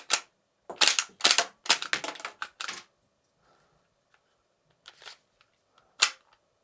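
A Glock-style blowback toy pistol with shell ejection clacks through a quick burst of sharp plastic snaps, then falls quiet before a few scattered clicks and one last crisp snap, close and alone.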